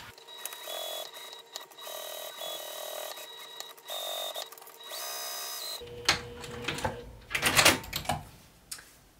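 A sewing machine set to a 3.5 stitch length stitches a clutch wallet flap in several short whirring runs with brief pauses, followed by looser clattering handling noises near the end.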